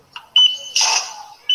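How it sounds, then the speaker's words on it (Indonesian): A money counting machine sounds its fake-banknote alarm, loud close electronic beeps in short, uneven bursts with brief gaps between them. "bunyi alarm tadi dan muncul huruf E tadi adalah untuk mendeteksi bahwa itu bukan uang asli."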